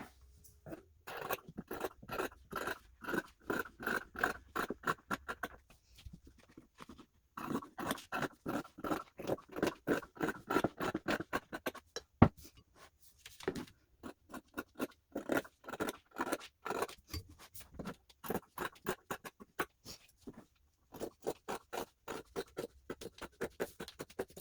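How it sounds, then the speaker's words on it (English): Scissors cut pattern pieces out of fabric for a child's ruffle-bottom apron, sounding as quiet, close, rhythmic snips in steady runs with short pauses between them, and no talk. "So let's get all these pattern pieces cut out in our fabric so we can get sewing."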